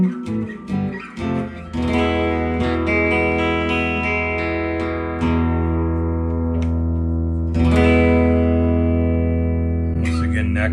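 An Epiphone SG electric guitar fitted with EMG Revelation pickups plays clean with no effects: a few picked notes, then long, ringing sustained chords that decay slowly, with a fresh strum near the end.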